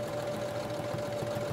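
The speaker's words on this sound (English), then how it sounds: "And then you're going to backstitch a little bit to make sure that is nice and secure where you have it." A sewing machine backstitches a seam on leggings with a steady, close, whirring hum and no voices.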